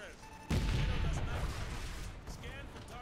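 A sudden loud blast erupts as vehicles blow up in Call of Duty: Modern Warfare 2 Campaign Remastered, followed by a long rumbling, crackling decay with more distant battle noise and voices.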